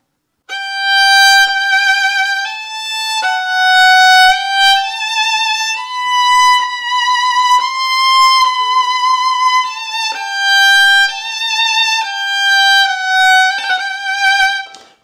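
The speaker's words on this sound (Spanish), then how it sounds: "Ahora bien, el himno original de Inglaterra suena así." The English anthem God Save the King is played as a solo melody on a bright, sustained instrument, one note after another at a steady stately pace, loud and close, with no talking.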